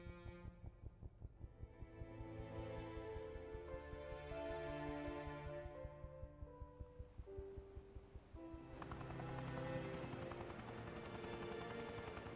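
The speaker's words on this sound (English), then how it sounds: "they're leaving in a chopper" Helicopter in the survival horror game Resident Evil Revelations 2: rapid, steady rotor chop thumping continuously under swelling tonal background music, fairly faint and sustained throughout.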